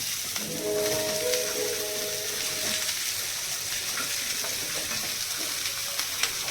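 Vegetables drop into hot oil already fried with spices, giving a steady broadband sizzle that holds for the whole stretch, with a faint scraping stir and a few light clinks near the end.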